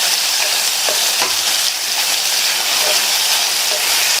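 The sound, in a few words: vegetables being stirred and sautéed in a pan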